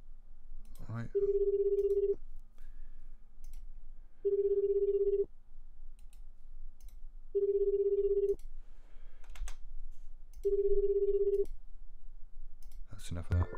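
Telephone ringing tone on an outgoing call, four evenly spaced bursts of a steady electronic ring about three seconds apart, with clicks and faint background noise between them.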